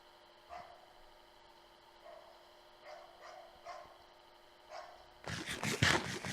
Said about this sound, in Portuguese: se você estiver escutando latido de cachorro aí, desculpa, é porque minhas cachorras